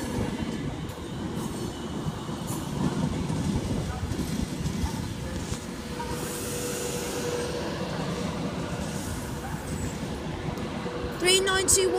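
Class 390 Pendolino electric train 390131 rolling into platform 3 at London Euston, a steady rumble of wheels and traction throughout with a brief metallic squeal near the end and a voice talking over it.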